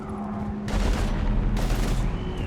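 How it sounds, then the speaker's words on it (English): Heavy automatic gunfire in the shooter game Mass Effect 3 rattles loud and close in two dense bursts, with booming low impacts under sustained firing. "we're taking heavy fire"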